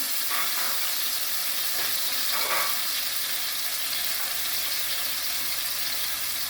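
Tomato sizzling in a hot pot as flavor is released before steaming snapper with okra, Jamaican style; a constant loud, close frying hiss with faint clinks of stirring.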